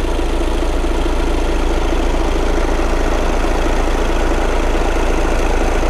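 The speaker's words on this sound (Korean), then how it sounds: "엔진 소리도 일정하네요." A Volkswagen Tiguan 2.0 TDI diesel engine idles with the bonnet open, heard up close in the engine bay as a loud, even, steady rumble with no change in pace.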